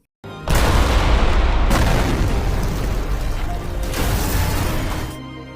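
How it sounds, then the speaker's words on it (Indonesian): A nuclear reactor explosion in a film erupts as a sudden, loud, sustained roaring blast that rumbles on for several seconds with a second surge partway through, with no talking. "Reaktor nomor 1 meledak."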